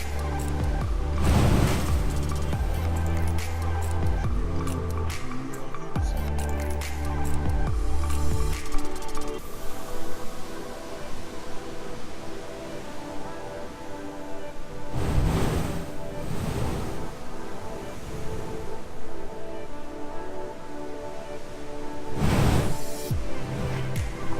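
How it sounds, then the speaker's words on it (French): Big ocean waves roar steadily against a rocky coast, with a few powerful bursts as air blasts out of a blowhole, each surge swelling loudly and then falling back, with wind noise on the microphone. "Les vagues sont vachement grosses, donc du coup le souffle qui sort du trou en fait est vraiment super puissant."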